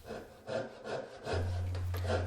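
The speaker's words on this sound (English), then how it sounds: "take your saw and just practice sawing those lines" A hand saw cutting practice lines on a scrap wooden board, giving quiet, rhythmic back-and-forth rasping strokes at close range, with a low steady hum entering partway through.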